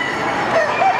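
Roosters crow loud and near amid the steady din of a crowded hall at the Ohio National Poultry Show, with several overlapping calls in a short burst.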